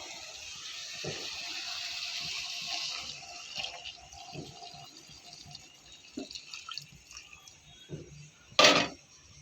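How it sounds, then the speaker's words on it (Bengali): Hot water poured into a pot of green jackfruit curry, a steady gushing splash for about three seconds, then scattered drips and clinks, ending with one sharp, loud splash near the close. "আমি গরম জলটা দিয়ে দেবো"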